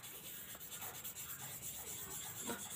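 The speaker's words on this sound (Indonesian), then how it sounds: "Lebih baik kita amplas terlebih dahulu untuk pistonnya. Amplasnya halus kayak gini ya loh," Fine sandpaper rubs a motorcycle piston from a Yamaha Jupiter Z engine during assembly, a soft, continuous scratchy rasp in short repeated strokes, close but faint.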